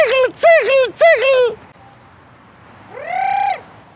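A human voice imitates a female thrush's call as a hunting lure: three quick, close chirping notes, a short pause, then one longer drawn-out note.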